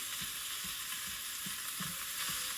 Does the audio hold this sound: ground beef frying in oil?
yes